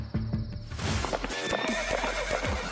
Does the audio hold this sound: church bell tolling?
no